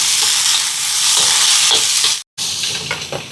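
Carrots and other vegetables sauté in a pan with salt, giving a strong continuous sizzle with occasional stirring scrapes. The sound cuts out completely for a moment near the end, then the frying resumes. No voices are heard.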